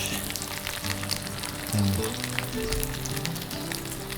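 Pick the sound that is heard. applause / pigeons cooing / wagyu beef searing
wagyu beef searing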